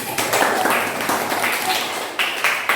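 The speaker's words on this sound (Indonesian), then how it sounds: "Kasih tepuk tangan buat kawan." A classroom full of students clapping steadily, a dense patter of hands with a few voices mixed in, fairly close.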